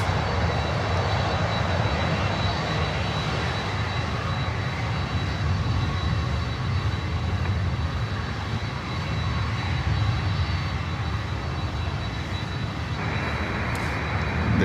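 An American Airlines airliner inbound from San Juan, Puerto Rico, approaches to land at Miami airport, its engines producing a steady, broad roar that holds loud and even throughout, with no talking.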